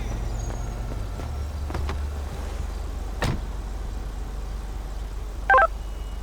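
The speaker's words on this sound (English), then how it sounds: "Calling me on my fucking cell phone" A cell phone in GTA 5 with the LSPDFR police mod gives a short, bright burst of electronic dialing or ringing tones near the end, standing out over a steady low car-interior hum with a few faint clicks and a brief thump.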